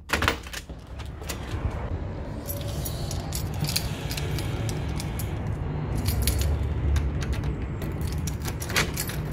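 Keys jangle close by in a series of bright metallic clinks and rattles, some sharper bursts standing out over a low background rumble for several seconds.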